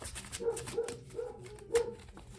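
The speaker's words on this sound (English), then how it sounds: "Apologies with the dog barking in the back." Dog barking in the background, a few quick barks and yips spaced irregularly at moderate distance over faint room noise.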